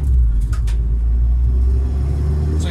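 Steady low engine drone and road rumble from inside a moving car, loud and continuous with no voices over it.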